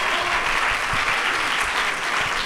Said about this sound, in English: So we can clap for them if they are here.